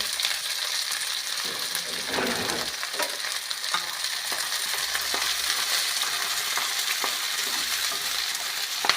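Coarsely crushed garlic and onion fry in a pan with steady, close sizzling and crackling, broken by scraping stir strokes throughout, with no voices.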